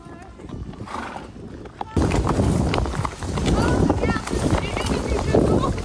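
Horses at a hot summer campground around watering time, hooves clip-clopping and shifting close by with occasional snorts, busy and fairly loud after a brief quieter start.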